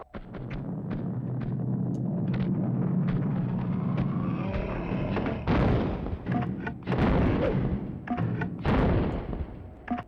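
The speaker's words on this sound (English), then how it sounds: "We're bringing back the grenade launcher." Grenade launcher fire in Tomb Raider 2, heard as a dense run of heavy booming thuds and blasts, loud and close, with rumbling decay and sharper explosive bursts clustered in the second half.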